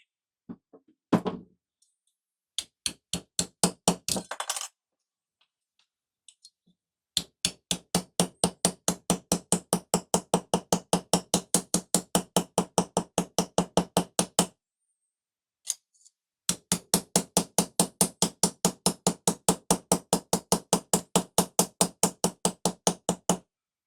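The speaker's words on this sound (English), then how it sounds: "Let me flatten this out. Use a rubber mallet for that." Rapid, evenly spaced blows of a rubber mallet flattening silver pendant metal, in long runs separated by short pauses, close and crisp.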